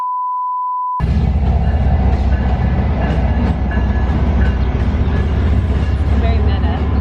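A train rumbles past close by at a station in Needham, a loud continuous roar with rattling wheels, preceded by a brief steady tone; voices talk faintly underneath.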